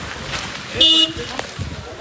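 A single short car horn toot sounds on a road during a trip to the Ekvira temple, lasting about a quarter second, fairly close, amid steady background noise and people talking.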